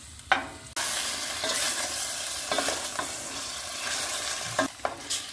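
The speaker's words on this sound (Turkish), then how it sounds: "Arkadaşlar etimizi böyle yavaş yavaş karıştırıyoruz." Diced meat sautéing in oil for a kebab dish, a steady close sizzle broken by several clattering scrapes and stirs of a spoon.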